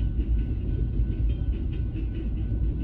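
A passing train's deep, even rumble fills the scene, steady and close, with faint rhythmic clatter over the low roar.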